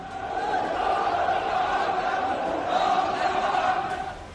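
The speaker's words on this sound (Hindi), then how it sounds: "राष्ट्रपति भवन से लेकर सरकारी इमारतों में घुसी भीड़।" Large protest crowd storming government buildings in Baghdad, a steady dense roar of many voices shouting together, continuous and loud with a slight swell near the end.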